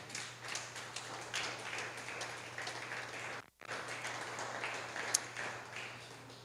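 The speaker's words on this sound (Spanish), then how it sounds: "Dele un aplauso, por favor, al Señor." Congregation applauding in a church, a steady wash of clapping that carries on for several seconds, breaks off briefly in the middle, then resumes at moderate level.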